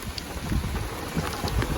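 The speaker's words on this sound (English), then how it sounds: "This is a field that does not hold water all that often unless we get a good storm like this one" Heavy rain from Tropical Storm Elsa hisses steadily over a flooded field, with a low rumble of thunder and wind beneath it. The sound is loud and close and continuous, with no voices.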